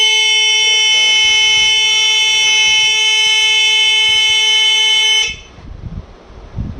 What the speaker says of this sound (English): start the alarm.